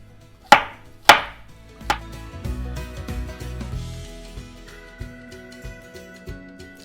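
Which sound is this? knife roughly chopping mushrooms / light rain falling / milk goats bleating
knife roughly chopping mushrooms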